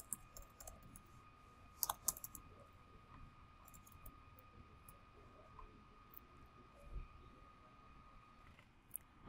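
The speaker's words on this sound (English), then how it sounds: "Going to type in the text box." Quiet, sparse clicks of typing on a computer keyboard into a text box, with a few louder key taps scattered over a faint background hum.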